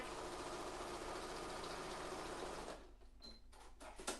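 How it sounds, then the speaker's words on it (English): A sewing machine runs steadily, stitching bag seams with wadding between the layers, a close continuous mechanical whirr for most of the clip before it stops, followed by a few small handling clicks. "so let's just give that a sew"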